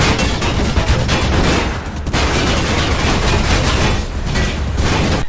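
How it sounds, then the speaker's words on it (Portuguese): Dense, loud gunfire from the Mirror's Edge Catalyst video game, a continuous rattling barrage of rapid shots with brief dips in intensity, heard close and without talk. "O som dos tiros são altos e intimidadores quando você tá sob fogo pesado."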